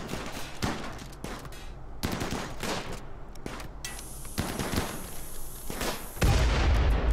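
Gunfire in RimWorld crackles in uneven bursts of sharp shots, some clustered like automatic fire, with a thin high whine creeping in near the end and a heavy rumble at the close.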